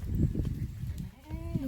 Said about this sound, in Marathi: कोणाचं वासरू आलंय बाहेर ते उचकावं लागेल